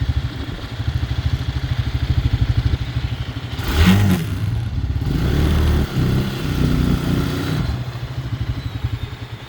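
A Bashan 250 quad bike engine starts with a rhythmic chugging idle, then revs up in a couple of throttle blips before settling back to a steady putter, heard up close.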